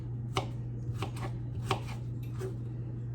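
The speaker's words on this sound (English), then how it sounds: "So those won't be hard to chop up." A knife chops through peeled, pre-sliced cucumbers on a cutting board, giving about five crisp, evenly spaced taps close by over a low steady hum, with no talking.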